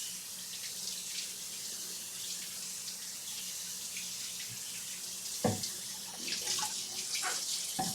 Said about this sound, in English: Give me a second while I rinse off my cutting board.